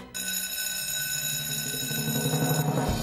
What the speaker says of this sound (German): Ich betätige den Alarm.